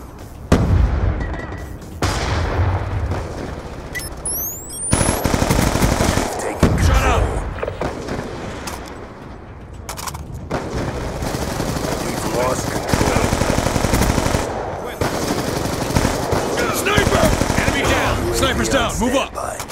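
Black Ops 2 team deathmatch gunfire: rapid automatic bursts and heavy shots crackle across the battle, loud and near, with shouted in-game voices mixed in.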